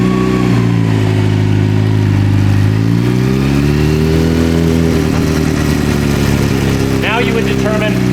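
A motorcycle engine runs on a powersports dyno with strong low harmonics that rise and fall as the revs change, loud and close, with brief higher chirps near the end.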